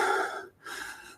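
Slow breathing during a Sufi heart-illumination meditation: a long, audible breath, a brief pause, then a second breath of similar length, close and fairly soft, with no speech.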